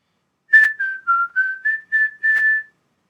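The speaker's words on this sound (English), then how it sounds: "when I whistle that melody, you're only hearing one note at a time" Seven clear whistled notes play a simple nursery-rhyme melody, Mary Had a Little Lamb, one note at a time, close and solo with brief gaps between them.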